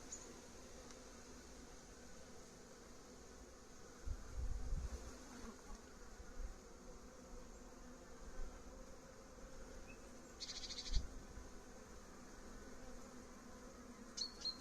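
A continuous buzzing of a honeybee swarm fills the air, a dense, droning hum with occasional louder passes close by.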